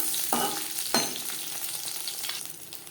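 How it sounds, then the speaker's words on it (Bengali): Fish frying crisp in hot oil, a steady soft sizzle with a couple of sharp crackling bursts near the start as pieces are turned, close and moderately quiet. "দু তিনবার উল্টে পাল্টে মাছ ক্রিস্পি করে ভেজে নেব।"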